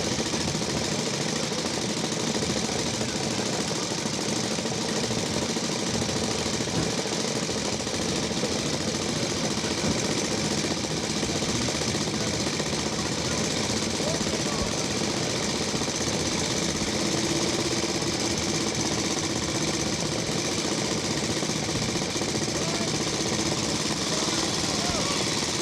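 A vintage AJS motorcycle engine runs steadily at a Vintage Motor Cycle Club Banbury Run start, a continuous loud rough drone with other old bikes around, while a commentator talks over it.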